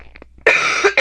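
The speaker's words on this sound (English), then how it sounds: "So you might hear me cough throughout the video." A sick man coughs indoors: a couple of faint throat sounds, then one loud harsh cough followed quickly by a second, close to the microphone.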